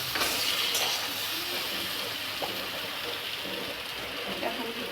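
Vegetables seasoned with salt sizzle in a pan with a continuous close hiss while they are stirred, and a few light scraping clicks break through the frying noise.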